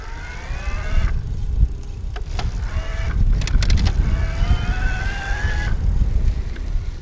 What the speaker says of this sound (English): You're going to hear that motor the most and just get an idea of what it could sound like and how quickly it responds.